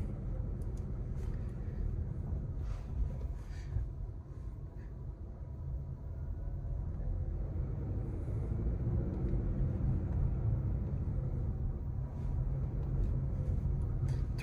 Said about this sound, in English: release the brake lock, and now we accelerate